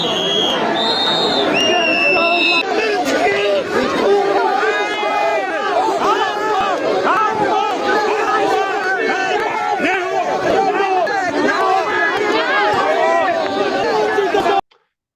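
A large crowd of demonstrators at the National Museum fills the air with dense chatter, shouts and overlapping voices, a steady noisy hubbub that continues for the whole stretch before cutting off abruptly.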